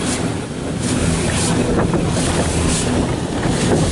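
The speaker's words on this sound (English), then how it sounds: "I guess we got a wheel blaster here." High-pressure water jets of a wheel blaster roar steadily inside a Belanger car wash tunnel, a dense, continuous hissing spray close to the vehicle with no talking.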